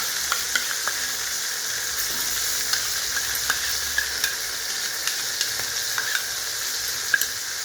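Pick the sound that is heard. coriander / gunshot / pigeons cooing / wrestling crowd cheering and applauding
coriander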